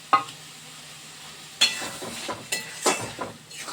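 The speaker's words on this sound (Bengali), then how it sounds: "ভেজে রাখা ডিমগুলো দিয়ে ভালো করে নাড়িয়ে চাড়িয়ে নিচ্ছে" Fried eggs being stirred into an egg curry in a pan: a spatula scrapes and knocks in several distinct strokes over a soft, steady sizzle, close and alone with no voices.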